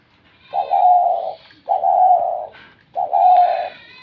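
Three drawn-out, throaty coos from pet double-crested pigeons sound up close, each a steady low rolling note separated by brief pauses, with no other noise around them.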